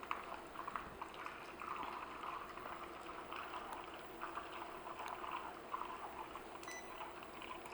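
Butter boils in a pan on the stove, a steady, dense bubbling and sizzling crackle that continues evenly throughout with no talking.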